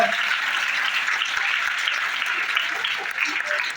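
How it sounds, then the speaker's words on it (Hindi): School audience giving loud, dense applause to a students' performance, a continuous close wash of clapping that stays steady throughout. "जोरदार ताली से स्वागत।"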